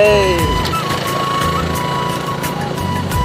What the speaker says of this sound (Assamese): ভাই গাড়ীৰ একেবাৰে কি আৱাজ ওলাই গৈছে